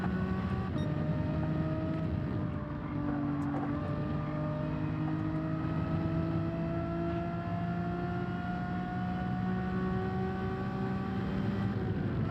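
Race car engine held at full throttle in Gran Turismo 7, a sustained loud drone with slowly rising pitch and no talk.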